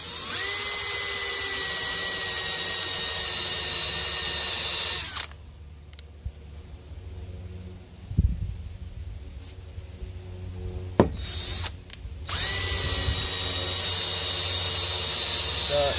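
A power drill boring holes in a plexiglass arcade control panel, loud and close, with a steady high whine for about five seconds, a quiet gap with a few knocks, then the whine starting again.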